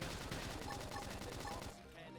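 Rapid bursts of gunfire in the video game Xenoblade Chronicles X during a battle, a fast repeating rattle of shots that drops away near the end, faint and mixed with game effects.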